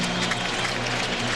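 Steady applause from a large stadium crowd at a 2003 NFL football game after a field goal, a dense continuous wash of clapping and cheering held at an even level throughout.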